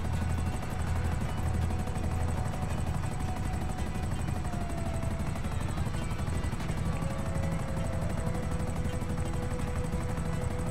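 A helicopter approaches in Grand Theft Auto V, its steady low rotor thrum holding loud and unbroken throughout, with a faint engine whine riding on top and no talking.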